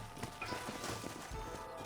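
Horses in Red Dead Redemption, hooves clip-clopping at a steady walk over a busy outdoor game soundscape, fairly close and moderately loud, with no one speaking.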